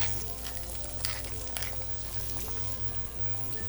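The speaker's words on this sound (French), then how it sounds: "quand l'huile est bien chaude, on ajoute la petite brunoise de topinambour" Finely diced Jerusalem artichoke with salt and pepper crackles in hot oil, a dense continuous sizzle with brief stirring clicks, quiet and steady, with no talk.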